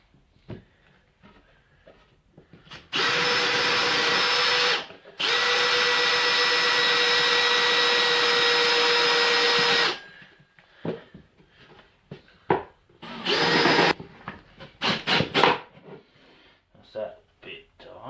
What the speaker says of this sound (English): They're the 2 points I want to drill in between, and I'm going to cut the hole out